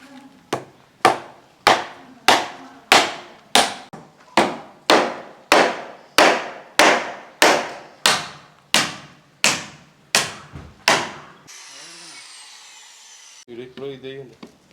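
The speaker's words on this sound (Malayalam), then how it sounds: "ഇപ്പോൾ ഇവിടെ ആണി അടിക്കുക" A hammer drives nails into wooden planks for formwork during a home extension job, giving about fifteen loud, evenly spaced blows. A scraping sound and a brief voice follow.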